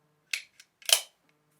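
The slide of an unloaded Staccato 2011 XL pistol is racked, giving crisp, close metallic clicks: a sharp pull, a small tick, then a louder snapping return, all in a quiet room.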